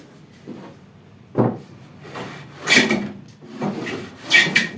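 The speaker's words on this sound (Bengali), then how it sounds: "এটা রাঁধা চালানো হচ্ছে রাঁধা চালাচ্ছেন দেখুন কত রকমের মেশিনে কাজ করতে হয় কাঠের দোকানে" Wood being shaved with a plane in a woodworking shop: several separate rasping strokes, close and fairly loud, come in uneven bursts with quiet gaps between.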